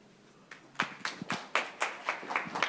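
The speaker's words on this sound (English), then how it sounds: "So I do want to give a round of applause to Arthur Toole." Sparse hand claps from a conference audience greeting a speaker in a room, about a dozen separate claps over a few seconds, moderately near and fairly quiet, with no talk over them.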